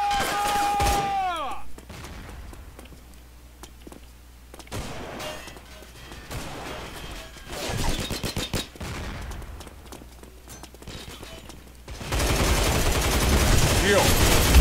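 Bursts of rapid P90 submachine gunfire in the shooter game Line of Sight during a deathmatch, dense crackling volleys that come and go, with a louder sustained barrage near the end and a voice talking briefly.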